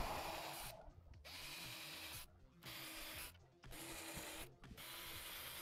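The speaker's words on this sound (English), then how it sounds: "Just getting these holes started. I got a flag on my drill bit here" A power drill fitted with a depth flag on its bit bores starter holes in wood for picture frames, whirring in four short bursts separated by brief pauses, close but fairly quiet.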